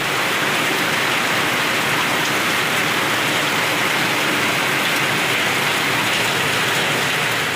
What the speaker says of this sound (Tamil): மதுரை மாவட்டம் திருமங்கலத்தில் நேற்று மாலை அரை மணி நேரத்திற்கு மேலாக கனமழை பெய்தது.